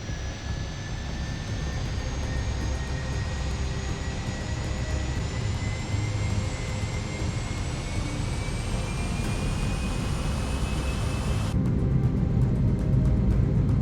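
Airliner jet engines spooling up to takeoff power on the runway, a loud steady roar with rising whine tones heard from inside, growing slightly stronger toward the end.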